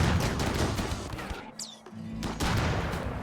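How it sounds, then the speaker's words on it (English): Automated turrets firing in a space video game, a dense rapid fusillade of gunfire at fairly close range, pausing briefly in the middle before the shooting resumes. "But all of these turrets are shooting."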